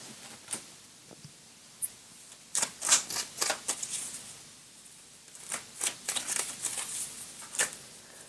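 Tarot cards are shuffled in quick papery riffles that come in short bursts, soft and close, with brief pauses between the flurries.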